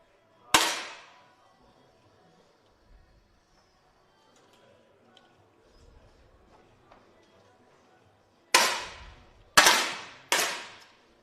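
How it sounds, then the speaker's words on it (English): Sharp cracks of 10m air rifle shots at a visually impaired mixed para shooting final in Granada: one shot near the start, then three more in quick succession near the end, each ringing briefly in an otherwise quiet hall. "Fast first shot for four of them."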